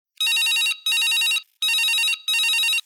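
Telephone bell ringing for a farmers' call-in radio show on Akashvani Bilaspur, four loud, bright bursts of close ringing separated by short gaps.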